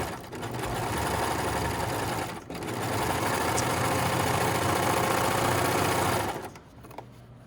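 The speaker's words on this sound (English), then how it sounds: "just feed it through, aligning the raw edge with the blade" A serger overlock machine runs steadily through fabric for about six seconds, a loud continuous mechanical whir with a brief dip midway, then stops and leaves a quiet room.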